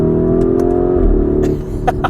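A Lamborghini Urus super SUV's engine holds a steady, loud rumbling drone as paddle downshifts are pulled, with a brief pitch shift midway and a slight dip near the end.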